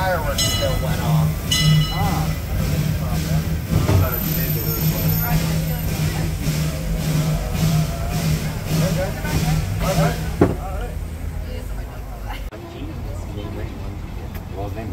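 Disneyland Railroad's E.P. Ripley steam locomotive sits at the platform taking on water, giving a steady hiss and rumble with rhythmic mechanical pulses, while people talk nearby throughout.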